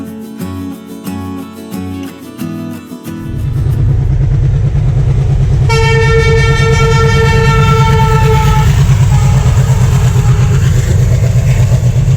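A passenger train bound for Palakkad rolls past close by through forest near Vaniyambalam, Kerala, its loud rumbling engine and wheels building up and holding steady, with a high horn-like tone sounding midway.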